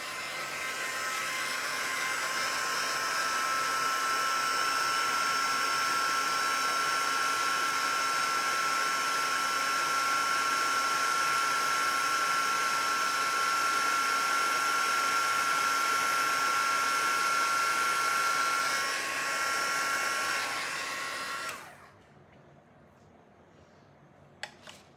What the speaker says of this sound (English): Turn the heat tool on.